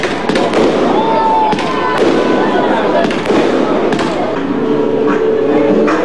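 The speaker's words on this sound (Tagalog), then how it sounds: "Nagkaroon din ng fireworks display." Fireworks bursting during the Sinulog Festival display, a run of loud booms and crackling pops at uneven intervals with voices in the background.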